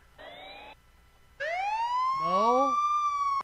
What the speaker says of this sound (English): I want the police siren.